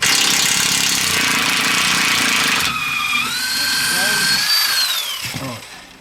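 A pneumatic impact gun undoes a tight bolt while rear springs are fitted to a 2010 VW Touran. Loud rattling bursts for a few seconds give way to a whining spin-down, close by.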